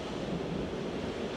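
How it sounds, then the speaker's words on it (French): Steady roar of rough surf pounding against rocks at Biarritz, continuous and close, with a constant wind-blown rush and no voices. "c'est impressionnant comment les vagues se jettent contre ces rochers"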